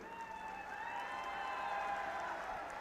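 A crowd at a political rally in Mahendragarh, Haryana claps in a steady wash of applause, heard from a distance and faint.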